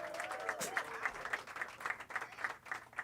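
Audience applause for a guitarist being introduced at a comedy and jazz show, a steady burst of many hands clapping filling the room for about three seconds, with a brief tonal note near the start.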